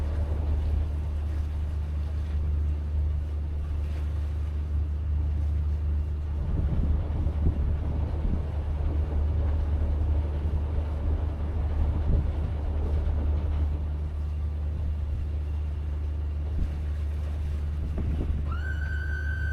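A Boston Whaler 365 Conquest boat reverses toward a beach, its outboard motors giving a steady low rumble with a faint mechanical whine, heard near and alone without talk.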